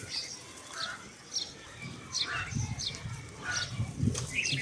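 Pet pigeons coo softly in low murmurs, and their wings flap now and then, close by and steady, with no voices.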